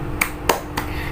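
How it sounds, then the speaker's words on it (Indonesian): A teacher-led class performs a 'tepuk semangat' clapping chant, with three sharp claps spaced evenly about a quarter second apart, close and fairly loud over a quiet room. "Oke, kita tepuk semangat dulu ya."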